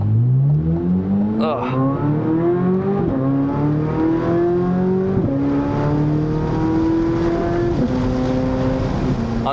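A Chevrolet C8 Corvette Z06 engine revs through a series of rising pulls with sharp upshift drops between them, loud and close from inside the car, burbling between gears; a voice briefly groans near the start.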